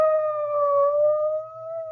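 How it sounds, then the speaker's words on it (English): Police car siren in an old radio mystery drama, a steady wailing tone held alone and fairly loud for about two seconds with only slight pitch drift. "It's a police car. It's going that way, toward the Lansing house"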